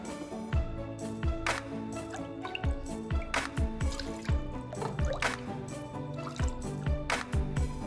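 Elderflower syrup strains through a cloth strainer as a close, quiet run of irregular drips and small liquid plops, falling alone without voices.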